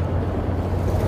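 A CSX SD40 diesel locomotive sits idling nearby, giving a steady low rumbling drone with a constant throb and no talking.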